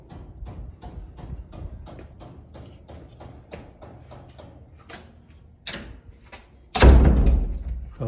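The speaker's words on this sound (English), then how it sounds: "Close that door." A door closes partway through a walkthrough of a house's entry hallway, a solid thud after a series of light footsteps or taps, standing out above the quiet room.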